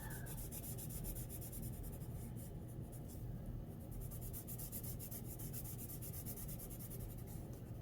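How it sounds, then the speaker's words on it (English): Pencil shading in a sketchbook: a close, continuous scratchy rubbing of graphite on paper, steady strokes going on unbroken for several seconds, quiet and with no talk. "So let's just shade it in."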